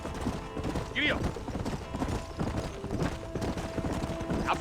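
Horse hooves clip-clopping in the Western video game Red Dead Redemption, a steady trotting rhythm under ongoing voices, with a brief whinny-like squeal partway through.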